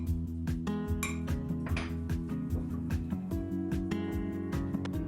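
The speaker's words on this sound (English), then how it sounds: "I'm covering those with cornstarch and salt, mixing that up well" Torn firm tofu chunks being tossed with cornstarch and salt in a bowl, with quiet repeated clinks and taps of a utensil against the dish, close and soft.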